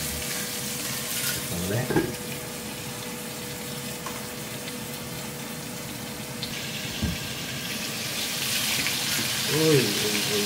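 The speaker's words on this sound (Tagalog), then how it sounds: "Nalabasin ko lang yung oil niya." Tap water runs steadily while oil is rinsed off, a continuous rushing splash with brief clinks, under short bits of talk.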